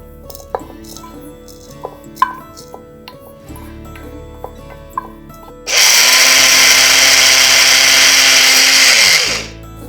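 An electric mixer grinds fenugreek, mustard seeds, asafoetida and turmeric into powder. After a few light taps and clicks, a loud, steady motor whir roars for about four seconds and then cuts off.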